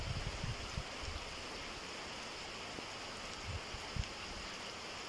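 Quiet, continuous rushing of meltwater running after the snow has melted, a soft broadband wash with a few low thumps and splashes, no voices.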